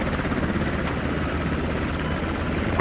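A helicopter in a combat video game, its rotor thumping in a steady fast rhythm, loud and close, continuous without talk.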